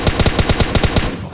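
Rapid automatic gunfire from PUBG Mobile, a burst of about ten evenly spaced loud shots over a second, no voices.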